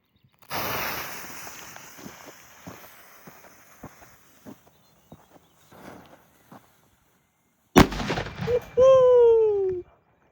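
A C4 original 1.9 G firecracker set on a padlock goes off as a single sharp, loud blast after seconds of quiet shuffling and light handling noises, followed immediately by an excited voice.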